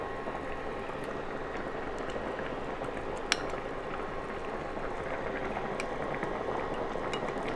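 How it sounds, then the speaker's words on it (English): Fresh coconut milk goes into a simmering pot of shrimp, mango and drumstick curry, giving a steady close bubbling and liquid hiss, with one sharp utensil clink partway through and no speech. "Now we are going to add our fresh press of coconut milk."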